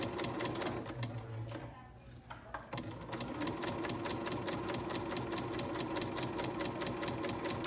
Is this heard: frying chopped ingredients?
no